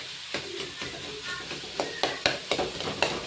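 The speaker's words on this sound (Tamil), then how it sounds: "இப்போ கிழங்கு வந்து இந்த மாதிரி கேரட் பீன்ஸோட சேர்த்து நல்லா மசிச்சு விட்டுறலாம்." Potato masala with carrot and beans is mashed and stirred in a sizzling pan, with soft scraping strokes and occasional sharper taps over a steady fry, close by and without talking.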